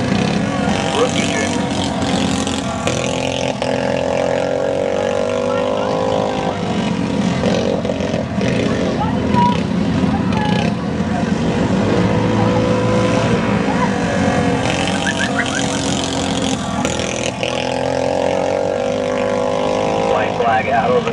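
Rookie junior race cars run a final heat on an evening oval track, their engines droning continuously and loudly throughout, with an announcer talking over the racing.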